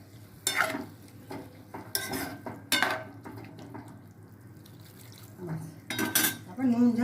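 Food stirred in a pot with a metal spoon, several sharp scraping and clanking bursts against the pot over a faint simmer, close, with a brief voice near the end.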